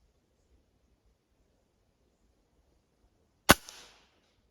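After several seconds of near silence, a single sharp shot from a Hatsan 125 air rifle cracks out nearby, followed by a brief fading rattle.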